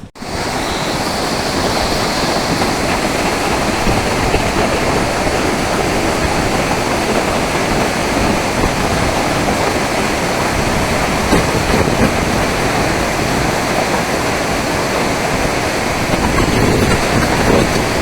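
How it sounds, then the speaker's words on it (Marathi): Water discharged from Darna dam near Igatpuri, Nashik, rushes in a loud, unbroken roar, close and steady from start to finish, with no talk over it. "एक खूप मोठ्या प्रमाणात जे आहे इथून पाण्याचा विसर्ग चालू आहे सध्या"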